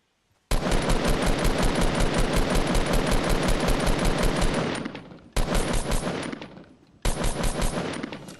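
Automatic gunfire in Fortnite Battle Royale rattles off in a long rapid burst of loud, close shots, then breaks into two shorter bursts after brief pauses.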